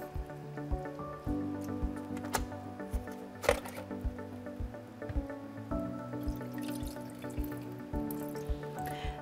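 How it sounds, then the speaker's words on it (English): The filter of a Miele Blizzard CX1 vacuum cleaner is rinsed under running tap water, giving a soft, continuous splashing with irregular drips and squishy handling noises, fairly quiet and close. "Simply hold it under running water and rinse it out."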